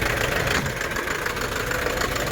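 A mini dump truck engine idles close by with a rough, knocking chug, steady and unbroken for the whole short stretch.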